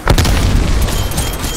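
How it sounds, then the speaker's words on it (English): A frag grenade goes off in Call of Duty: Black Ops Zombies as one loud, close boom with a rolling tail. "Throwing frag."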